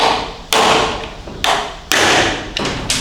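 A Snap-on case splitter is hammered into the seam of a 68RFE transmission case during teardown: five loud, sharp metallic whacks at uneven intervals, each ringing briefly before fading.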